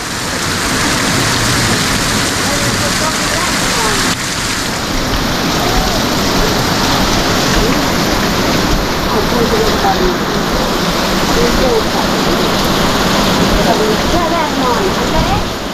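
Heavy rain pours down outdoors in a dense, loud, unbroken roar with a washing texture, like a downpour drenching people, while voices are heard talking over it.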